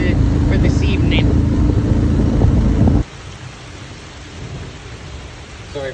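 Heavy rain pours down during a thunderstorm at a boat camp under a bridge, with a deep rumble under the downpour. The loud wash cuts off sharply halfway through, leaving a quieter background hiss.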